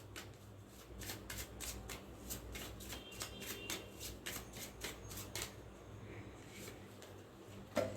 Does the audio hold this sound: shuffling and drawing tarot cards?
yes